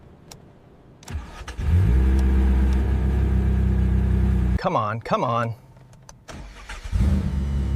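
A 2025 Ferrari F80 engine, recovered from underwater after a storm, cranks and catches, then settles into a steady low rumble; a voice speaks briefly over it before the engine revs again.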